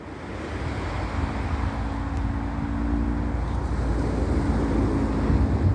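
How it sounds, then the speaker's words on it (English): Ocean surf at the south end of Cocoa Beach, Florida, by the Space Force area: a constant broad wash of waves mixed with wind buffeting the microphone, steady and close, with no talking. "Maybe you can hear the waves."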